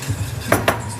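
A whisk clinking against a metal pot while milk is worked into cheese sauce for nachos, two quick scraping taps over a low background hum.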